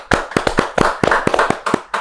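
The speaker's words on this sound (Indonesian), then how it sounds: "tepuk tangan dulu untuk penjelasan dari Mr." A small group of hands claps in a quick, uneven burst of about a dozen sharp, close claps over two seconds, loud and dry with no voices.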